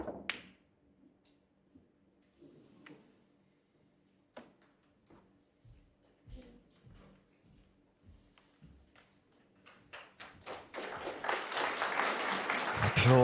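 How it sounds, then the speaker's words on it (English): Snooker crowd at the World Championship: quiet arena with sparse ball clicks and small knocks, then applause swells in and builds loud toward the end. "Applause."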